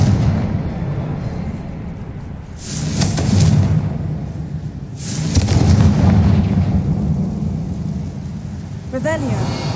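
Confringo fire spell explosions in Hogwarts Legacy, two broad booming blasts a few seconds apart over a low rumbling ambience, followed by a brief magical chime near the end.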